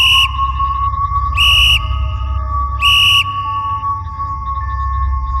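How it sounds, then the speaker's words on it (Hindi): A school watchman's whistle in a horror story sound effect: three sharp, shrill blasts spaced about 1.3 seconds apart, loud and close over a steady low drone and a faint sustained tone. "वह स्कूल में चारों तरफ सीटी बजाता हुआ स्कूल के एक किनारे से दूसरे किनारे पर टहलता हुआ"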